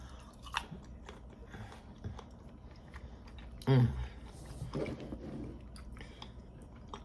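Close, wet crunching and chewing of crunchy mushrooms, irregular bites and mastication with a louder crunch midway, quiet otherwise.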